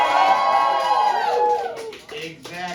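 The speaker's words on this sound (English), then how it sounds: "A big cheer." A Boston comedy game-show audience lets out a big, loud cheer of massed voices and whoops that fades after about two seconds, followed by a person speaking.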